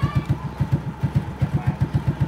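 A 2008 RS motorbike with an original, unmodified engine runs at idle nearby, giving a loud, even, rapid thumping pulse that holds steady throughout.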